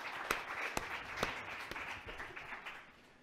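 Scattered audience applause at a World IA Day information architecture industry event in Washington DC, sparse claps fading over a few seconds, fairly faint and distant.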